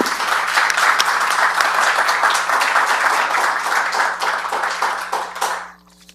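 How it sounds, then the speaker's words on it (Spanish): An audience applauds a doctor before her talk on engineering and chemistry in new materials, a loud, dense wash of clapping that holds steady for about five seconds before tapering off into quiet. "Un aplauso para la doctora, por favor."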